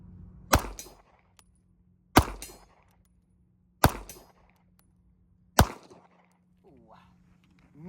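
A MAC 9 DS pistol fires Hornady ammunition at a target 50 yards away, four sharp, loud single shots spaced about a second and a half apart, each ringing out briefly over a faint steady hum.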